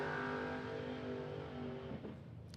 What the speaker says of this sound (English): building a very little bit of RPM there.